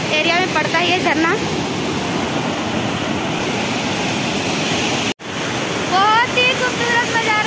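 The Chandro waterfall near Narki village in Bokaro district, Jharkhand, roars as a constant loud rush of falling water, with someone speaking over it at the start and end.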